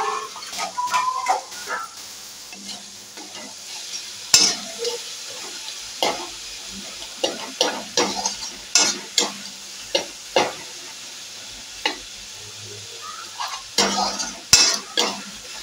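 Masala for a potato and soya chunk curry fries in a pan, with a low sizzle under repeated rhythmic spatula scrapes and knocks of steady stirring.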